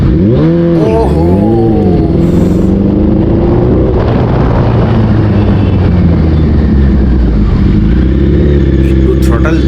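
A Suzuki Hayabusa superbike's engine revs hard on a road, rising and falling in sharp throttle blips before settling into a steady loud drone, with someone talking over it.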